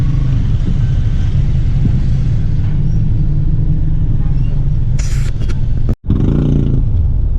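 Cars stuck in a slow-crawling traffic jam in Angeles City, Philippines, giving a steady low engine rumble and road noise throughout, with a brief hiss and a short dropout near the end.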